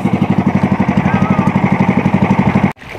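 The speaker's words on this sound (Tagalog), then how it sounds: "pinatay na yung makina" A fishing boat's engine chugs steadily and loudly at close range, a fast regular pulsing throb that stops abruptly near the end, leaving quieter water and ambient noise.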